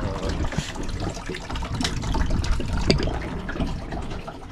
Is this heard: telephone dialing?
no